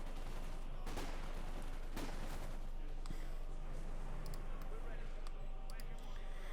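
Battle in Company of Heroes 2, with Sten submachine guns and Lee Enfield rifles firing: scattered distant shots and short bursts under constant rumbling noise and a talking commentator.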